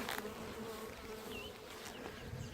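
Honey bees buzz steadily around an open hive during package installation and inspection, a soft continuous drone with a few faint passing flights, no voices.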